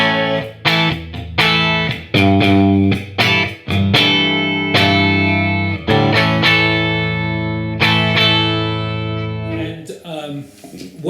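Electric guitar played through heavy distortion, a run of loud sustained chords and notes with sharp attacks and pauses, ringing out thick and saturated on its own.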